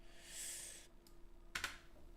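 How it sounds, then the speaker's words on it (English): Quick, uneven clicks of fingers typing on a computer keyboard during a livestream, in a short close burst followed by a few scattered keystrokes. No one speaks. "Oh, you can hear me tapping away at the keys."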